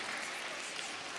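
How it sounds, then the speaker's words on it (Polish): Dense, steady applause from a children's and youth audience at a Lenten retreat, loud and continuous throughout with no talk over it. "Wielkie brawa, dziękujemy Ci bardzo."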